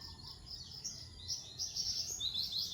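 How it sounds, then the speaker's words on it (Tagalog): Many birds sing at dawn, around 5:30 in the morning, chirping and trilling together in a lively chorus, high-pitched calls overlapping continuously over a soft background hum. "Pakinggan nyo guys, oh, daming ibon na kumakanta."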